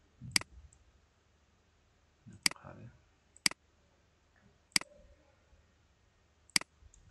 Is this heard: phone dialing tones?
no